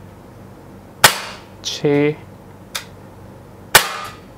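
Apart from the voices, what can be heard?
CZ 75 P-07 Duty CO2 BB blowback pistol shots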